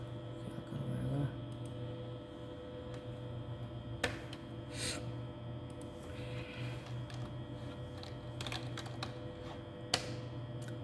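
Faint, irregular key taps from a computer keyboard under a steady background hum, with a couple of sharper clicks.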